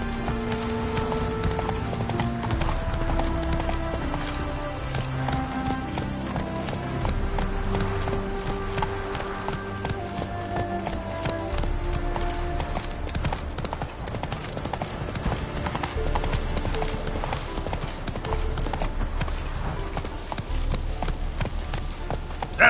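Roach, Geralt's horse in The Witcher 3, gallops with a steady, rapid clip-clop of hooves that runs throughout, under a dense layer of game music.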